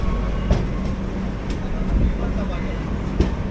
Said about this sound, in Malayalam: നമ്മളങ്ങനെ രാജാപൂർ റോഡ് സ്റ്റേഷനിലേക്ക് എത്തിയിരിക്കുകയാണ്.